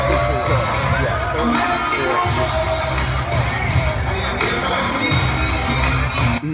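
Crowd cheering in a played 9/11 cheer reenactment tribute, a loud, continuous roar of shouting and whooping voices with bursts of individual yells, sustained and dense throughout.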